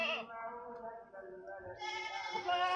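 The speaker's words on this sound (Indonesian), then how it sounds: "dinamakan kambing PE biasa nih" An Etawa crossbreed (PE) goat bleats in a series of loud, wavering, close calls with a brief dip in the middle, under some background voices.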